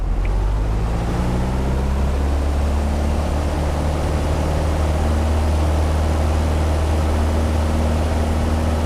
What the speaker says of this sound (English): let the airplane accelerate, and we're on the go.